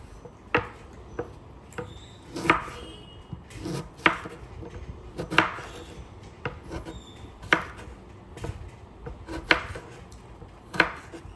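A knife chopping raw mango into small pieces for pickle, with sharp, close taps on a board at an uneven pace, about one or two strokes a second, and no voices.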